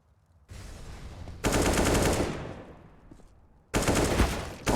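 Bursts of AK rifle fire in a Counter-Strike match on the Nuke map: loud rapid automatic volleys in several separate bursts with short pauses between them.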